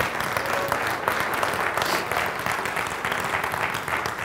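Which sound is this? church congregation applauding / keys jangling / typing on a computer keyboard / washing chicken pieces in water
church congregation applauding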